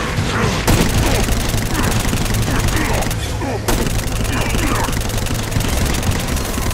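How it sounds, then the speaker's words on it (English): Gunfire from the Exodus 10, a locust-plague weapon in the Saints Row: Gat Out of Hell video game, sounds as a dense, continuous burst of rapid shots and crackling blasts over a low rumble, loud throughout with brief dips. "And this one here is the Exodus 10. This is the Locust Plague in a gun."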